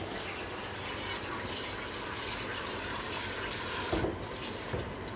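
Hot water from a tap runs steadily into a baking dish for macaroni and cheese, a continuous even splashing rush that ends with a few brief clatters.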